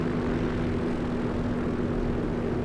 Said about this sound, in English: You can hear the engine there as I throttle back.